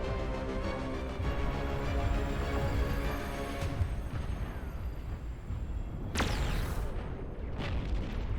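Plasma cannon shots in a large real-time strategy video game, a series of deep booming explosions rolling into one another, with two sharp cracking blasts near the end, loud and without talk.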